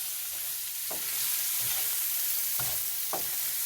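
Vegetables sautéing in a pan hiss with a steady close sizzle, broken by a few soft scraping stirs of a utensil.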